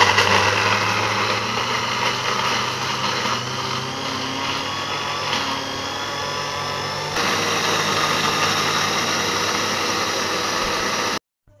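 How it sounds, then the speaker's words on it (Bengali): A blender grinding green chillies and onion, a loud continuous motor whine that shifts pitch slightly midway and stops abruptly at the end. "এখন কাঁচা মরিচ আর পেঁয়াজ ব্লেন্ডার হবে।"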